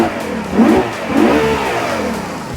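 A stock Ferrari 6.3-liter V12 revs hard twice in quick succession, each loud surge rising then falling, before settling into a steady, rumbling idle close by.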